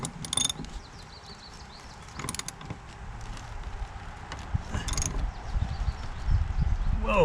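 Metal strap on a rusty Jeep Wrangler fuel tank being worked loose with a piece of wood, giving irregular ratcheting clicks, scrapes and clunks close by.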